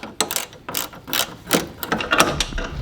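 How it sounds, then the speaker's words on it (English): Ratchet with a 1/2-inch socket working a hood latch bolt on a Chrysler, giving a series of short clicking bursts in uneven spurts, close and fairly loud, with no talk over it. "it is a 1/2-inch socket that will go on that bolt head"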